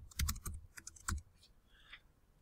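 Quiet clicking of keys on a computer keyboard as a password is entered, a short burst of several quick taps followed by a couple of faint, scattered presses.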